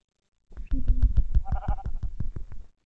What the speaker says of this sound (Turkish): Koyun çıktı.